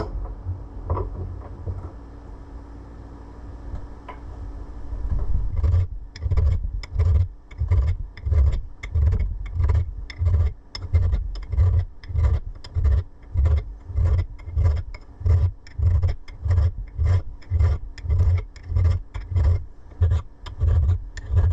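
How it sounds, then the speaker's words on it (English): A metal part from a 10-inch Craftsman table saw is filed to remove burrs: after a quiet start, steady back-and-forth rasping strokes repeat evenly about twice a second, close and consistent. "Finally filed this down."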